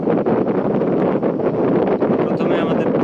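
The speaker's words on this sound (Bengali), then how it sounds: "মধ্যে নৌকা অনেক জোরে বাড়ি খাচ্ছে" A boat thumps and slaps through wind-driven waves on a wide river, under constant loud wind buffeting the microphone, with no clear breaks in the rushing noise.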